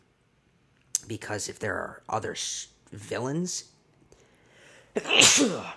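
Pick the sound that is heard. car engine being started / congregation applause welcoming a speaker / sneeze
sneeze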